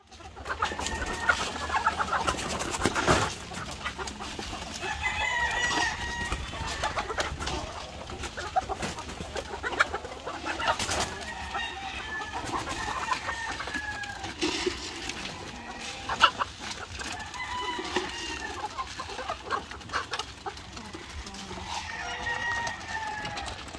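Pet hens cluck around a backyard coop while a rooster crows now and then, with bird calls scattered through steady outdoor ambience and no talking.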